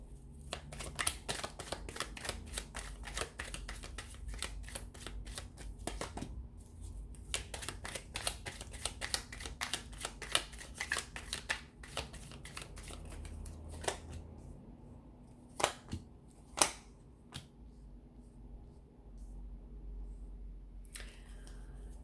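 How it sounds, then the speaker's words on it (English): Tarot cards are shuffled repeatedly at close range, rapid riffling bursts with brief pauses, then a few sharp taps near the end; quiet room, no speech. "So we'll give the cards a shuffle"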